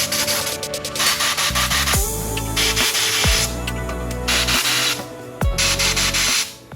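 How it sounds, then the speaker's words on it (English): Compressed air blasts out the wheel stud holes on a Lotus Emira hub in several sharp, loud hissing bursts. Short pauses separate the bursts, and a low mechanical drone runs underneath. "now we're gonna use a little bit of compressed air, make sure there's no shards or anything in there"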